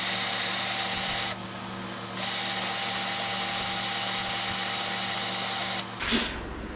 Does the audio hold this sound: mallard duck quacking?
no